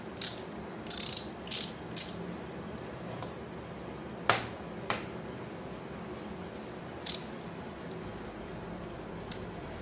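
Small clicks from a compact ratchet wrench in a 1/4-inch and 3/8-inch drive socket set with a 72-tooth reversible mechanism, a few short bursts of ratcheting and isolated ticks, close and fairly quiet.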